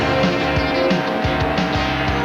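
NASCAR stock cars racing in traffic at the 1993 Splitfire Spark Plug 500, with Jeff Gordon's car downshifting; loud, close engine roar with repeated rising-and-dropping revs as gears change, no speech.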